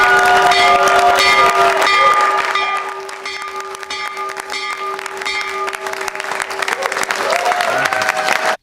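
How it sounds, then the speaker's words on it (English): A loud bell clangs repeatedly for several seconds amid crowd applause and cheering, opening the stock market. "So ring the bell, Mr. President."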